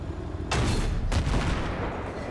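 Two sharp bursts from a tank's secondary machine gun in Battlefield 3, fired at an infantry soldier about half a second apart, loud and close with a short rumbling tail after each shot.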